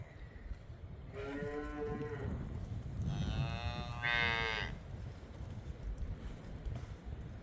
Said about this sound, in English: So when I was trying to get the cows out of the barn, Ember got stuck in her stall.